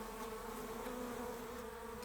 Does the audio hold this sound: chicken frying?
no